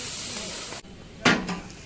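Pork meat hits a hot pan with bursts of loud sizzling hiss, the frying cutting in and out in short sharp surges between quieter moments.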